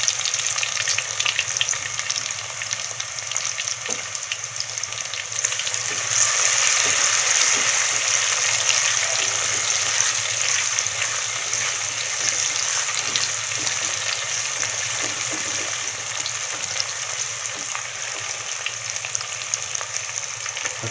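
Garlic frying in oil in a clay pot for fish curry gives a continuous loud sizzle, with faint stirring ticks and no voices.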